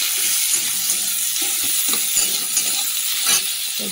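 Onion, crushed garlic and green chili frying in hot oil in a home kitchen, a loud, continuous close sizzle with small pops and crackles and no talk.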